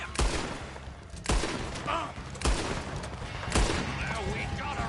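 Gunshots ring out in a camp shootout in the video game Red Dead Redemption 2, four loud sharp cracks spaced about a second apart, with shouting voices between them.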